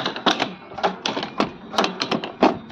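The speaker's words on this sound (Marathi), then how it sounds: "आता खत आणि बी वालं हे यंत्र आहे, आपण याला चालवून बघू" A hand-operated fertilizer and seed sowing machine is pushed along, giving an irregular series of sharp clacking and rattling mechanical knocks, close and fairly loud.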